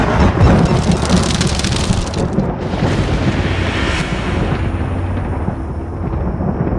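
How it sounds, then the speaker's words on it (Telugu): Rain pours steadily while thunder rumbles low, loud and close, with a crackling burst of thunder around the middle before the downpour carries on alone. "అరే అవి ఉరుములురా"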